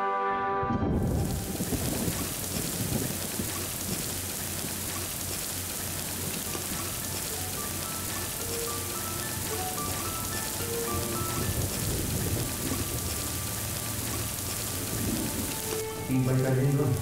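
Steady rain pours down throughout, a dense, even hiss that stays close and loud from start to finish, with no clear thunderclap standing out.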